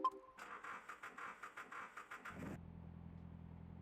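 An engine in Car Mechanic Simulator 2026 revs in a series of short pulsing bursts, then settles into a low, steady idle hum as the car is driven toward a lift.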